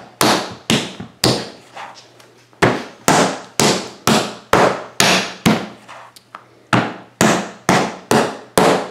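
A wedged lump of clay slapped flat by hand, a series of sharp, loud, close smacks in an uneven rhythm, roughly fifteen blows with brief quiet gaps between them.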